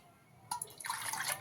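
Water splashes and pours into a rinsed pot holding whisked gram flour and yogurt for kadhi, starting abruptly after a brief quiet moment, close and fairly soft.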